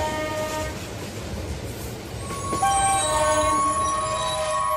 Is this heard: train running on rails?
yes